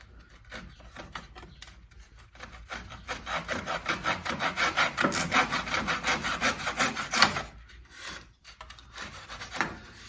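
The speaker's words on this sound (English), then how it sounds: "Now I can just trim that off." A wooden dowel is sawn flush on a plant stand, a close rhythmic rasp of back-and-forth strokes that builds, pauses briefly, then resumes with a few final strokes, with no voices.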